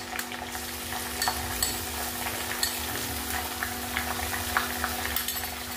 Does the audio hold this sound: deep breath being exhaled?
no